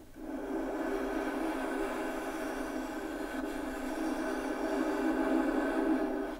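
A cello bowed on top of a wooden mute gives a steady, muted, slightly nasal sustained tone with a faint airy edge, held evenly and close for several seconds with no talking.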